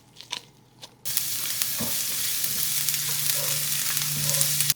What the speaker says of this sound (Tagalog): Next, magsangag na tayo.